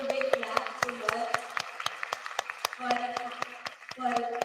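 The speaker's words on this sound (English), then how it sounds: "let's give a big clap to her" An audience at a meditation summit claps in quick, sharp bursts while a person speaks over the applause.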